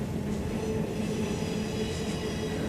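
A train rolls past a railway signal in Harrisburg, Pennsylvania, its steady rumble and rail noise continuing unbroken at close range, with no speech.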